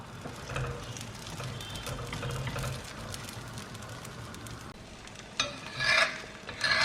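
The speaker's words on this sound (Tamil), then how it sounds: "இப்போ இதை போட்டு 2 பக்கமும் நல்லா சுற்றிலும் எண்ணெய் ஊற்றி லோ ஃப்ளேமில் வச்சு குக் பண்ணி எடுங்க." A thin scallion pancake cooks in oil in a pan over a low flame, giving a soft, steady sizzle with faint scraping, then brief louder crackling bursts near the end.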